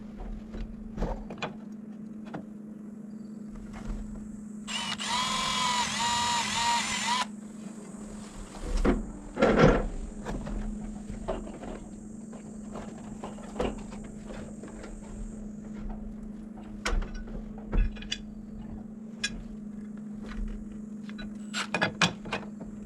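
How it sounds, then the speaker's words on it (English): A power drill pre-drills screw holes for Simpson outdoor structural brackets on a porte cochere, one loud whirring burst of about two seconds standing out from a steady mechanical hum, with scattered clicks and knocks of work around it. "let me get that pre-drilled and installed"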